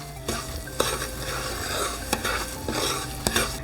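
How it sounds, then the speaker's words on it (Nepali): A spoon stirs semolina and gram flour as they roast in a pan for Nepali suji halwa, making soft continuous scraping with several sharper knocks against the pan, close and fairly quiet, with no voices. "यसलाई पनि अब भुटौँ यो सुजी सँगसँगै।"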